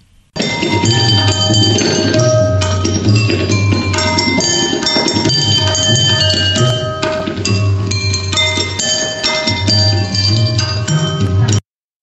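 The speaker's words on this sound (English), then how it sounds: "Hit each with a wooden rod to produce musical notes." Water-filled glasses of a jal tarang struck with a wooden rod ring out in a steady run of bright, sustained bell-like notes that overlap continuously, with no talking throughout.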